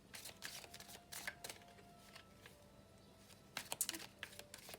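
Quiet crisp shuffling of tarot cards, irregular riffles and slides, with a slightly busier burst toward the end.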